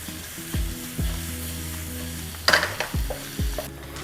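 Two chopped onions with salt frying in a pan, a constant bright sizzle with several low knocks and a burst of spoon scraping and clatter midway, no talking.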